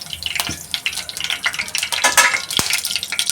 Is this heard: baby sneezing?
no